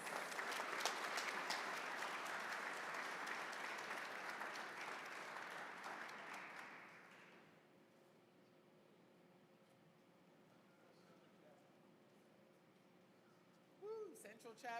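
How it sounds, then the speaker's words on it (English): Applause from a crowd at a 2021 Georgia PGA golf awards banquet, steady clapping for the first seven seconds, then fading into quiet room tone, with a brief burst of sound near the end. "Please give them a round of applause."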